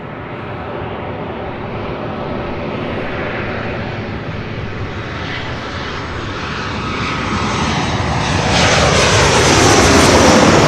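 An airplane passing overhead at LAX airport, a broad roaring engine rush that grows steadily louder and brighter toward the end as it comes closer, with no talk over it.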